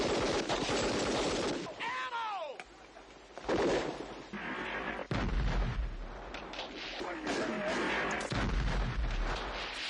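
Artillery and gunfire in a Vietnam War film battle: repeated heavy booms and crackling shots, close and loud, with shouting voices and a whistling incoming round mixed in.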